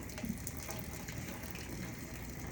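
Water pouring and splashing as it is drained off cooked vegetables for a turkey and veggie stir fry in a home kitchen, a steady close gushing stream into a sink for a few seconds, no talking.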